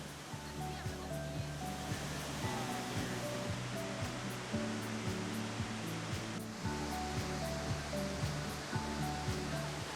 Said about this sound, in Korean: 푸른 숲 사이로 계단처럼 내려오는 폭포의 물소리는 세상의 소란을 잠시 멈추게 합니다